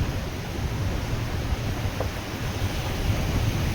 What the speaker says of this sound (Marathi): ऐका तुम्ही स्वतः बघा किती छान वाटतं समुद्र